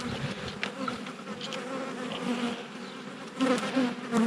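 Honey bees buzz around an opened hive frame holding mouldy pollen, a close, steady droning hum with individual bees rising louder as they pass near.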